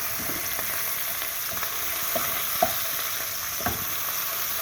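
Sausages for rougail sizzle steadily in a pan, with a few soft clicks and scrapes as they are stirred now and then.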